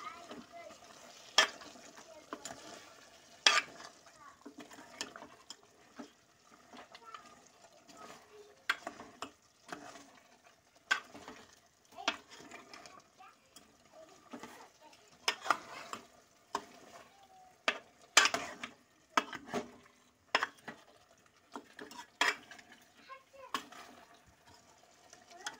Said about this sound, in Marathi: आपण हलवूया.